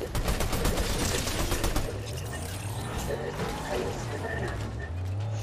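Fortnite gunfire rattles in fast, loud bursts at the start, then gives way to excited voices shouting over continuing game noise.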